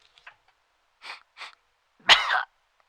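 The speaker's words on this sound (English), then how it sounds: "give this a sniff for me" Someone sniffing a drink: a few faint sniffs, then two short, distinct inhaling sniffs, followed by a louder, sharp nasal burst like a snort or sneeze, all close and in a quiet room.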